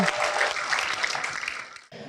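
A studio audience at a televised talk show applauds in a dense, steady burst of many hands that cuts off abruptly near the end, then resumes briefly.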